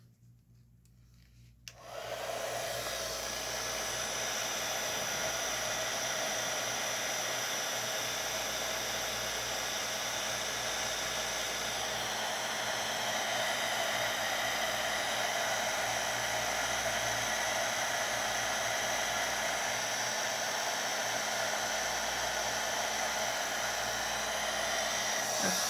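A heat gun drying a handmade card switches on after a short pause and then blows with a steady, loud whooshing hum that continues without a break.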